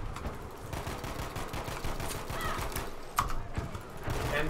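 Machine gun fire in a video game, a steady rapid rattle of shots running through the whole stretch at moderate loudness, with a sharper crack near the end and faint voices.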